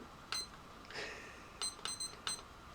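A few soft electronic beeps from an alarm clock being set, one alone then a quick cluster of three, faint against a quiet room.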